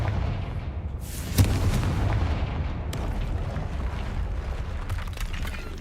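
A heavy explosive blast from the Confringo spell in Hogwarts Legacy booms out over a dense rumbling game soundscape, one sharp hit followed by a sustained roar and a second fainter crack.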